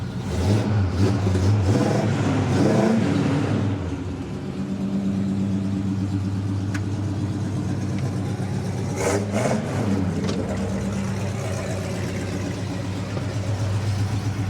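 A restored 1971 Pontiac GTO's V8 revs loudly up close, a strong burst early on, then settles into a steady rumbling idle before climbing again in a second rev near the end.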